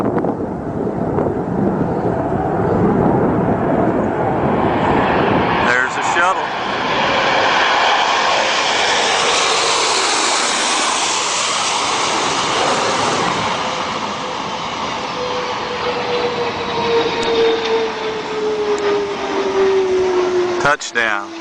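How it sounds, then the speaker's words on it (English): A space shuttle roars loudly with jet-like engine noise, a sustained broadband rumble that swells and sweeps as the craft passes, with brief bursts of other sound near the start and end. "Take a look and take a listen to those jet engines."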